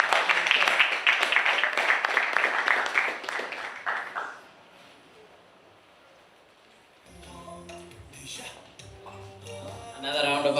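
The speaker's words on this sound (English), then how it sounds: "Another round of applause, kindly, to Piga Makofi." Audience applause at a manifesto launch event, dense clapping for about four seconds that fades out, followed by a speaker talking.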